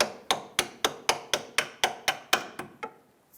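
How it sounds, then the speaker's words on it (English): A hammer taps out a track bar bushing bolt on a 1999-2004 Jeep Grand Cherokee about a dozen times in a steady rhythm, sharp ringing taps close by, the last few blows softer. "I'll grab my hammer here and just kind of tap this out."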